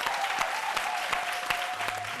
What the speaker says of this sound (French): faisons souffler ici un vent d'applaudissements à l'endroit de l'icône Anouma Brou Félix